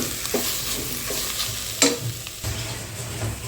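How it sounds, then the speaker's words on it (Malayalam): Beef curry masala with fennel powder is stirred over a low flame, with a spoon scraping and knocking against the pan over a steady, close sizzle and one sharper clank midway. "ഇനി ഇതിൻ്റെ പച്ചമണം നല്ലോണം പോകുന്നവരെ കുറച്ചൊന്ന് ഇളക്കി കൊടുക്കുക."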